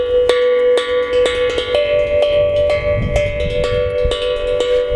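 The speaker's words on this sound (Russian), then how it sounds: "очень часто я использую такую штуку, как перебор, очень долгое зависание именно на одной ноте" A double-sided glucophone tongue drum struck again and again on one note, a steady run of close, bright metallic strikes whose ringing tone sustains and overlaps throughout, with no talking.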